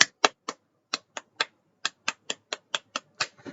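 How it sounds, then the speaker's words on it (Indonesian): Rhythmic clapping pattern of a Pramuka scout clap: about fourteen sharp, close claps in uneven groups with short pauses, alone with no talk. "Coba tepuk pramuka."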